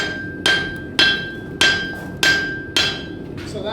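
Steady, evenly spaced hammer blows ring out on an anvil as a blacksmith works steel, five bright metallic strikes about half a second apart, each decaying with a sustained ringing tone, close and clear.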